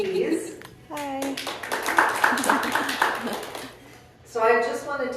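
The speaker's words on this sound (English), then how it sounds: "Clap for Karen" An audience at a family celebration-of-life gathering claps for a guest, a brief burst of hand-clapping between people's voices, close and lively.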